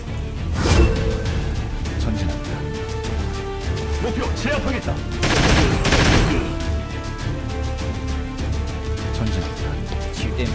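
Rapid bursts of automatic gunfire crackle through a Troubleshooter video game battle, with loud volleys near the start and middle over steady game noise, while voices speak at times.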